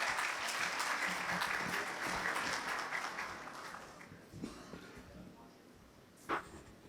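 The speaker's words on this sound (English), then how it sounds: "Please give him the biggest round of applause." A large audience claps to welcome a speaker to the stage at a formal address, the dense applause steady at first, then thinning into scattered claps and a few louder single claps near the end.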